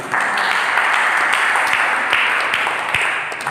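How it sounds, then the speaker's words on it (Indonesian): Sustained applause from a congregation at a church service on Ascension Day, a steady dense wash of many hands clapping together, loud and close, with no talk over it. "Berikan tepuk tangan."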